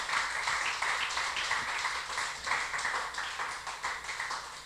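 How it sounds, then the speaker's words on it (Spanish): A church congregation applauds during a Sunday service, a steady sustained wash of clapping at moderate level for several seconds with no clear voice on top. "Dale un aplauso al Rey de la Gloria en esta hora"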